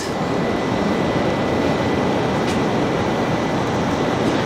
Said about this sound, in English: there's a plane up there as well